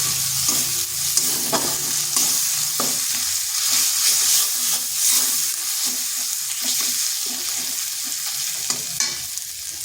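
Ginger garlic paste fries in a pan with a loud, steady sizzle, broken by repeated stirring scrapes and knocks of a spoon against the pan, close up and without any talk.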